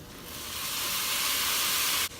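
Onions sauté in a pan with a steady, bright hiss of sizzling that holds evenly close up, then dips abruptly just before the end.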